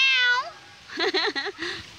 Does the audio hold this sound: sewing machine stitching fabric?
no